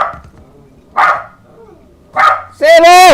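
A dog barks nearby, giving several loud separate barks with short pauses, ending in a longer whining, yelping bark.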